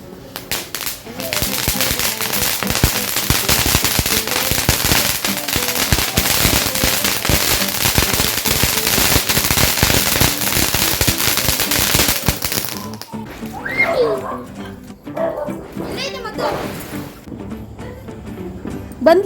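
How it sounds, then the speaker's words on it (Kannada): Firecrackers burst during the Tulasi festival at a home, a dense rapid string of loud cracking pops for about twelve seconds, then quieter with people talking and a final bang. "ಇವತ್ತು ತುಳಸಿ ಹಬ್ಬದ ದಿನ ಎಲ್ಲ ಪಟಾಕಿನೂ ಹೊಡೆದು ಖಾಲಿ ಮಾಡಾಕಿದ್ವಿ"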